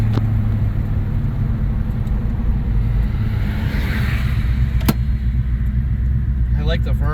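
Inside a 1989 Mercury Grand Marquis cruising at about 2,600 RPM, a steady low engine and road rumble fills the cabin while people talk over it.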